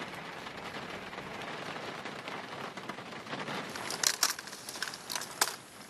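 Rain patters steadily onto discarded electronics left out in the open, a soft continuous hiss broken by a few sharper taps and crackles near the end.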